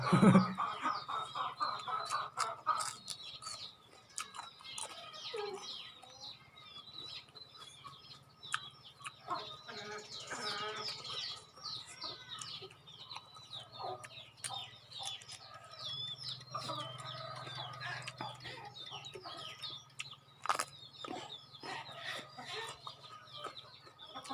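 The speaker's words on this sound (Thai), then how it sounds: "เสียงไก่ แม่เราเลี้ยงไก่ไว้ครับ" Home-raised chickens cluck repeatedly at moderate distance, with overlapping calls and scattered rustling over a long, fairly quiet stretch of background.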